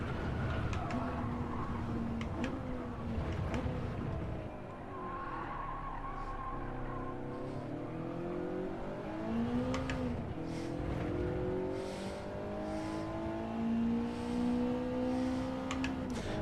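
A race car in the Gran Turismo 7 video game brakes hard with tires skidding and squealing over a continuous engine drone, the squeal rising and falling across several corners with no talk.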